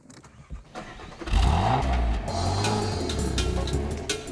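A Peugeot 406 Coupe engine starts up and settles into a steady, rumbling idle nearby, loud and continuous after a short crank.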